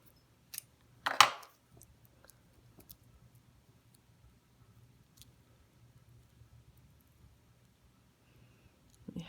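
Scissors snip once through a bracelet's cord tail close up, a short crisp cut followed by faint handling ticks in a quiet room.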